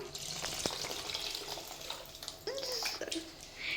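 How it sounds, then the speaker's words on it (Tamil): Tamarind masala water is poured into a boiling fish curry, a hissing, splashing rush of liquid hitting the hot pot, fairly faint, with brief quiet voices in the background. "அந்த நம்ம மசாலா புளி கரைச்சி வச்சுருக்கிறத ஊற்றிக்கலாம்"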